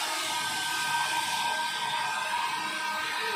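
A high-speed hair dryer runs steadily, giving a continuous hiss and whine at a constant, moderately loud level for the whole stretch, with no voices.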